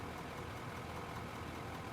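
A mining vehicle engine in the video game Out Of Ore runs with a steady, low, even drone, moderately loud and unchanging, with no voices over it.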